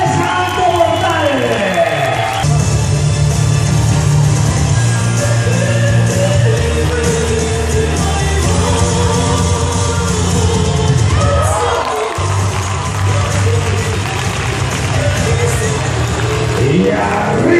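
Circus audience cheering and applauding after a triple somersault act, a loud continuous crowd roar with shouts and yells, a brass-like music bed underneath, and an announcer's voice calling out over it.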